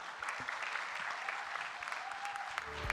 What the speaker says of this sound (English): Again, another big round of applause to the government of Malaysia and PETRA.